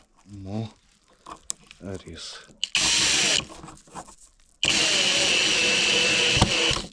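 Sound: screwing self-tapping screws into fixings with a drill

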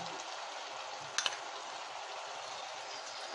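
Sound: stirring mango pieces into simmering rohu fish curry

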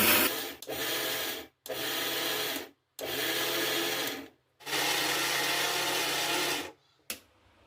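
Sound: mixer grinder pulsing sesame and niger seeds for chutney

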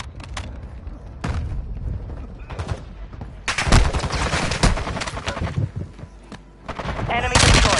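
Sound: gunfire in video game Call of Duty Warzone

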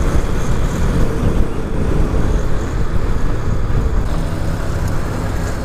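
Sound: large-displacement motorcycle passing by

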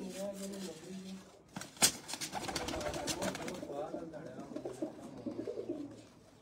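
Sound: pigeons cooing

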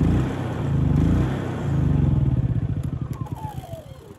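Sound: portable emergency generator engine running until fuel runs out

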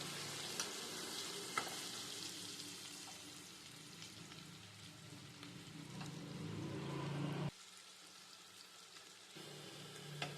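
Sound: spiced paneer pieces frying on medium flame

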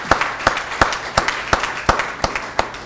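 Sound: applause for the program committee

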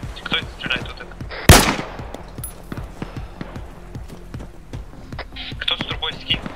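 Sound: gunfire in video game ArmA 3

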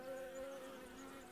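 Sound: honey bees buzzing around a hive in winter

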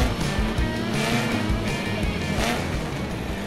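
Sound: cartoon race car engines roaring

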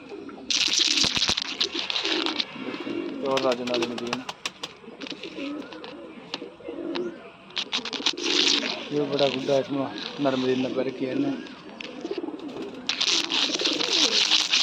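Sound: pigeons cooing

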